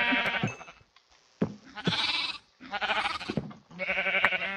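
Sheep bleat in the Minecraft video game, several loud, close nasal calls in a row separated by short pauses.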